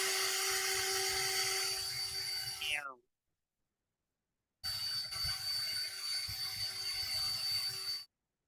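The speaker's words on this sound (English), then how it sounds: "Can y'all hear the drill?" A high-pitched drill whines steadily, cuts off abruptly with a falling pitch, then after a short silence starts again and runs at full speed.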